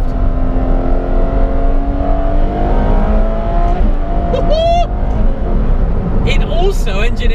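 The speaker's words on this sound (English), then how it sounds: "wait for the upshift." Ferrari F12 TDF V12 engine in race mode, loud steady drone with rising revs and a sharp upshift, over ongoing talk from inside the car.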